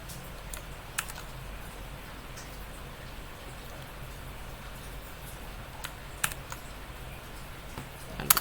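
A few isolated clicks from a computer keyboard, including presses of the enter key, sound sparsely over a steady background hum. A small cluster of quick taps comes near the end.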